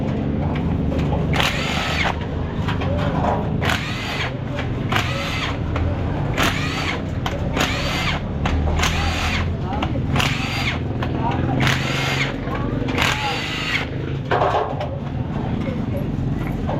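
A power tool removes screws from the crankcase of a TMX155 motorcycle with a noisy kick starter, giving repeated short whirring bursts about a second apart over a steady low hum, while someone talks.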